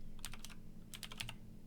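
Two quick bursts of keystrokes on a computer keyboard as a Linux command is typed, crisp close clicks separated by a short pause, with no talk.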